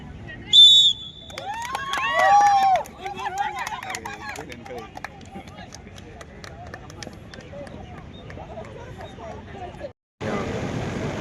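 A referee's whistle sounds sharply at an employees' sports meet at LB Stadium, with a short blast near the start and another shortly after, over crowd noise and talk from people nearby.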